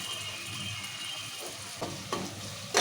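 Tomatoes cooking in oil in a pan for a mutton curry, giving a steady close sizzle and frying hiss with a few brief stirring clatters near the end.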